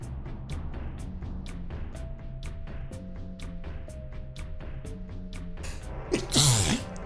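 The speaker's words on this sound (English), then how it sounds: "If you were still counting my sneezes, like, your counter be going crazy today." A single sharp human sneeze bursts out near the end, loud and close, following a stretch of rhythmic video game music with regular beats.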